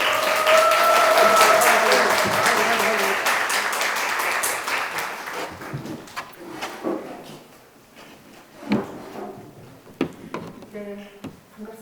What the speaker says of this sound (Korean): 오시는 길이 좀 길어서 박수 좀 더 칠까요?